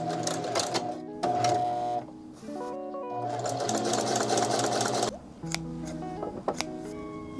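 A home sewing machine stitching basting stitches on scrap fabric, running in close, steady mechanical bursts that start and stop several times with brief clicks and pauses between runs.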